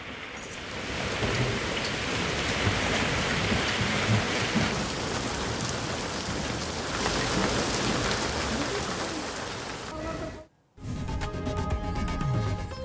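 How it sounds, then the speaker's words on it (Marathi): Heavy rain pours down steadily over a town, a dense continuous hiss that stops abruptly for a moment and then resumes just as strongly. "जालना शहरात जोरदार पावसाने हजेरी लावली आहे"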